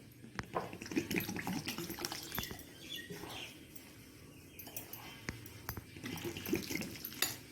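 Water poured into suji dhokla batter with curd and turmeric in a kitchen, a soft irregular splashing and trickling with light utensil knocks.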